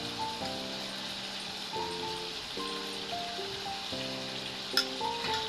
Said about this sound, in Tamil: தயிர் சேர்த்துக்கலாம்.